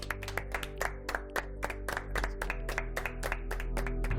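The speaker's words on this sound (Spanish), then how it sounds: "ellos también se merecen un aplauso" Applause for cleaning staff, a scattered group of hands clapping in uneven bursts, fairly close, with a low hum of background noise and no clear speech.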